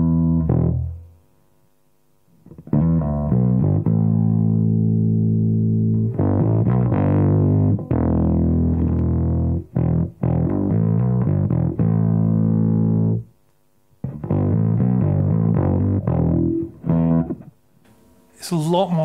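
A bass guitar played through an MXR M85 bass distortion pedal with the distortion turned up growls loud and gritty, sustained notes and chugging phrases broken by a few short gaps, with a faint bright noise at the end.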